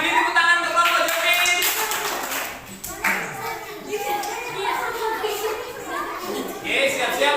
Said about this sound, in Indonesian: Beri tepuk tangan untuk kelompok Jobi.